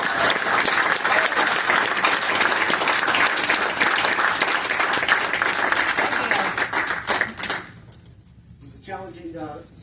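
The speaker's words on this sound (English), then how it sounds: "So once again, a round of applause." A town council audience applauds a state-championship marching band. The clapping is loud and dense for several seconds, then thins and fades out, and a voice comes in near the end.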